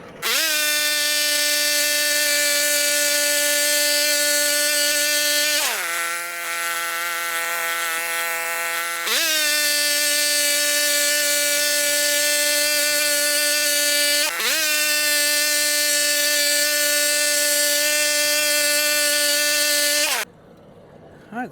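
A DeWalt power tool slabs boards off a small log with a loud, steady motor whine that lowers in pitch twice under load, then cuts off near the end.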